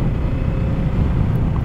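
A Kawasaki Z two-cylinder motorcycle engine, 48 hp, runs while being ridden, giving a steady, loud, low rumbling drone that holds evenly throughout with no talk.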